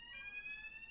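Home fire alarm during a test, a faint, steady high-pitched electronic tone heard on its own at a distance.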